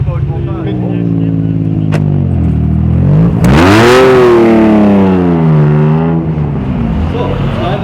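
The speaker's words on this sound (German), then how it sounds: "Ist das ein Hawk Stratos?" A Hawk Stratos replica rally car, a rebuilt 1976 build once burnt out, idles and then revs hard with a sharp rising and falling engine note at a classic rally revival. Someone talks over the engine.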